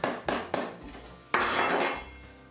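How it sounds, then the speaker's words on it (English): Hammer strikes on wood and nails of a small wooden shed frame, three sharp blows in quick succession, then a heavier ringing hit followed by a lingering metallic decay. "just using a hammer instead of like framing nailer, it got a little tricky"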